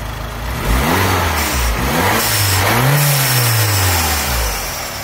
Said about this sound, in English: you can hear the engine and the turbo kicking in just fine